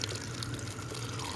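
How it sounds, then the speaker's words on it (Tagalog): A small amount of water is poured for a blended moringa, pear and apple drink, a steady, close splashing rush lasting just over a second. "Lalagyan natin ng tubig na konti lang."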